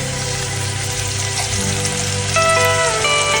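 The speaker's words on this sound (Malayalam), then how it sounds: "ചെറുതായിട്ടൊന്ന് വഴറ്റിയെടുക്കാം." Chopped vegetables for egg fried rice sauté in a hot pan with a steady, close sizzle and crackle, loud and continuous with no talking.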